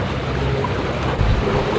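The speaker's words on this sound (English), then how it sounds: "whilst we are motoring towards Tromsø" A sailboat motors under engine through calm, windless Arctic sea off northern Norway on the way to Tromsø, a steady low drone with water wash and light wind buffeting, with no talking.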